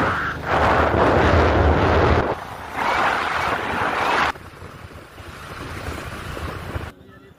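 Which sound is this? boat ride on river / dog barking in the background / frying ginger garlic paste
boat ride on river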